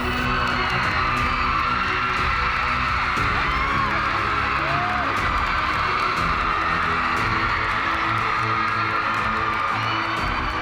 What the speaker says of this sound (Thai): ใครอยากเห็นแล้วว่าคู่จิ้นโปคือใครขอเสียงหน่อยฮะ